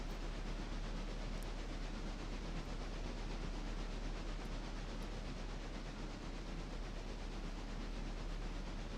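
Log trains run in a railroad simulator game, giving a steady, loud rumble and hiss that continues without a break.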